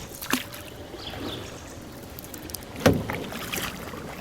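A kayak paddled across calm water, with soft dripping and swishing strokes and a sharper splash near the start and another about two-thirds through, heard close and fairly quiet.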